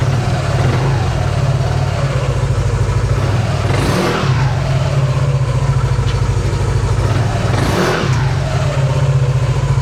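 Yamaha NMAX Techmax scooter with a UMA back pressure muffler, running loud and close with a steady throbbing exhaust, rising in two strong throttle blips that swell and fall back to idle.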